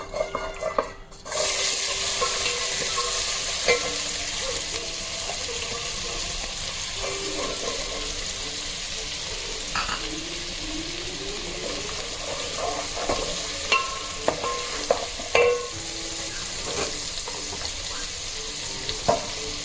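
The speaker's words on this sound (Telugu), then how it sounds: "హోల్ గరం మసాలా వేయినాక ఉల్లిపాయ వేస్తున్నాం." Onions sizzle steadily in a pan with whole garam masala spices for mint pulao, a continuous close frying hiss broken by occasional stirring clinks and scrapes.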